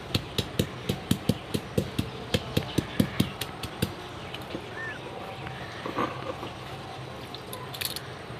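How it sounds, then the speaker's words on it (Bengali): Garlic is pounded into paste for a rui fish posto dish, producing a steady run of sharp, evenly spaced knocks up close. The knocks slow and fade to scattered taps and scrapes in the second half. "তো রসুনটা বেটে নেব।"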